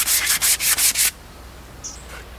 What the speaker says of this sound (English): I'm now going to start going through the sandpapers